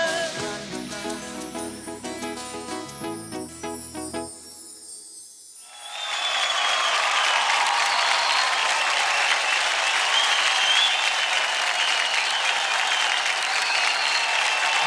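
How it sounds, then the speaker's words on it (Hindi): Studio audience at a televised dance competition breaks into loud, sustained applause and cheering after a performance, following a short stretch of music that cuts off before the clapping swells and holds steady. "जोरदार ताली हो जाए अभी के लिए।"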